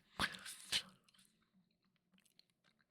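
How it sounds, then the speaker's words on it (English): Gum being chewed close to a microphone: two loud wet smacking chews followed by quieter, scattered mouth clicks and faint chewing in a quiet room, with no speech. "I gotta chew some to have my voice on point"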